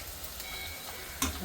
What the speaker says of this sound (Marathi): थोडा थोडा करून असा डिंक आपण तळून घेऊया. तूप चांगलं तापून द्यायचं आणि तळून घ्यायचा डिंक.